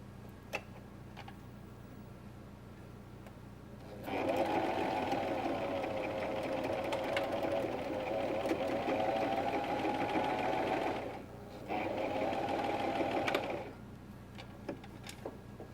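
A sewing machine stitches pants, first faintly ticking, then running in a loud, steady whirring burst that pauses briefly and resumes before stopping.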